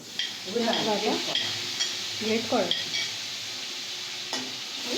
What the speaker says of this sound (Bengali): এবার পেঁয়াজ বাটাটা তেলে একটু নেড়ে নিচ্ছে